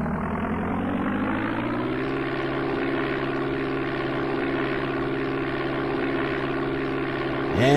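A propeller aircraft engine powers up for takeoff in the Amiga game Flight Simulator II, a steady loud droning hum with rising tone, continuous throughout until a brief shift at the end.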